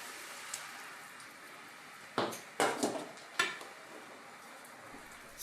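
Risotto with added onion and stock being stirred in a pot, a few distinct scraping clicks of a spoon against the pot over a quiet background hiss, faint and close.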